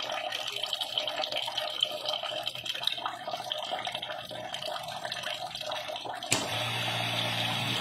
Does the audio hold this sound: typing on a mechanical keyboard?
no